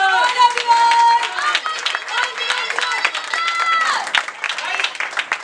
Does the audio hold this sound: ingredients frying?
no